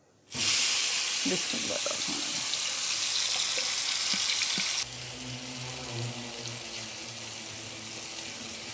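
Chopped masala hits hot cooking oil in a pan with a sudden loud hiss that sizzles strongly, then settles into a softer, steady frying crackle while someone speaks briefly.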